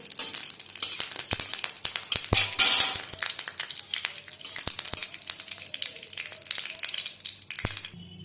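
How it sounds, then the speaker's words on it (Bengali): Peanuts fry in a little hot oil with a crackling sizzle, punctuated by frequent sharp clicks and scrapes as they are stirred and tossed in the pan, close up and without talk. "বাদামটা একটু ভাজা ভাজা করব"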